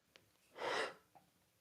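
A single short sneeze, close and moderately loud, with a faint breath just before it and a small sound just after.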